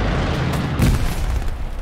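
A grenade explodes in the World War II shooter Hell Let Loose, a loud, close, deep boom with a rumbling tail that blends into continuous distant battlefield rumble.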